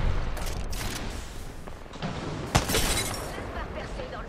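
Enemy gunfire in Apex Legends comes as scattered rapid shots and cracking impacts, with one sharp loud hit near the middle, mixed with game noise while someone speaks over it.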